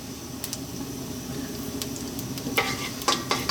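Whole spices sizzle in hot oil in a pan for an Indian chicken curry, a steady close crackling hiss with occasional sharper pops and spoon clicks, no voice.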